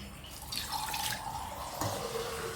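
Ration dal lentils being washed by hand in water, a steady wet swishing and dripping close by with a brief splash near the end, and no talking.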